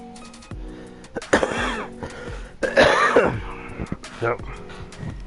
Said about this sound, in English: Bit of cough, yeah. Coughing.